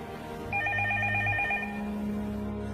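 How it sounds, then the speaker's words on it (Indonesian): A telephone bell rings in a repeated trilling burst, fairly close and clear, over a low steady hum, with no talk. "Sebuah telepon berbunyi."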